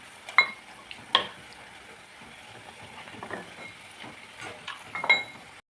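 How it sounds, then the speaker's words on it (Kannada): Pumpkin gargi frying in hot oil, with a soft sizzle beneath sharp metallic clinks and scrapes of a utensil against the pan, recurring every second or so; no speech. "ಈಗ ಚೆನ್ನಾಗಿ ಫ್ರೈ ಮಾಡ್ಕೊತಾ ಇದ್ದೀವಿ."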